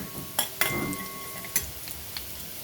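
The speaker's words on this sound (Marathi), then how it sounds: "असं बारीक लसूण टाकून तेल टाकून मग त्याला फोडणी द्यायची." Chopped garlic sizzles steadily in hot oil while a utensil clinks and scrapes against a pan a few times, close and fairly quiet.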